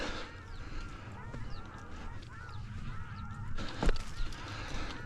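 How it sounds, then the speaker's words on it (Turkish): Ruddy shelducks calling out on open ground during a duck hunt, repeated nasal honking calls at middle distance over a steady low background rumble, with a faint voice briefly audible. "İstemediğin kadar angıt var."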